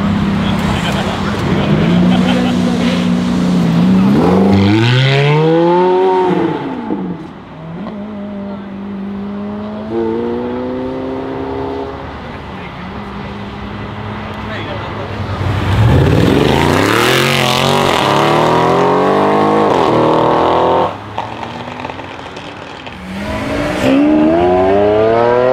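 Supercars including a Brabus 700 C63S, Cadillac CTS-V, Lamborghini Huracan and BMW M3 F80 accelerate hard onto a highway, loud rising engine howls with gear shifts sweeping up in repeated pulls, with some voices mixed in.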